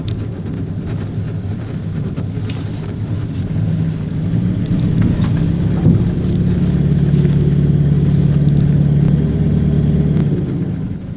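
A Buick Roadmaster rolls up into a driveway, its engine a steady low rumble with wind buffeting the microphone, growing slightly fuller midway through and holding close and continuous.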